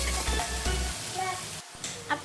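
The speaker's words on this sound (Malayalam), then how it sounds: "പാനിലേക്ക് കുറച്ച് ഓയിൽ ഒഴിച്ച് അതിലേക്ക് സവാളയും പച്ചമുളകും 2 പച്ചമുളക് ഇട്ട് വഴറ്റിയെടുക്കാൻ പോകുന്നത്" Onion and two green chillies fry in oil in a pan with a low, brief sizzle, joined by a couple of faint scraping stirs and a soft knock at the end.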